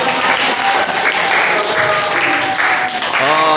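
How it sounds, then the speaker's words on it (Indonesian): A class of students claps steadily after a correct quiz answer, a dense even patter of applause filling the room without a break. "Tepuk tangan dong."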